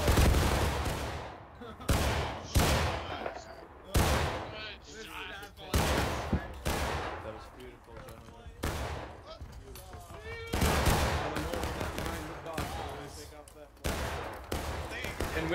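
Musket volleys in the Civil War game War of Rights crack out in repeated loud bursts, some single and some overlapping into ragged fusillades, with voices heard between the shots.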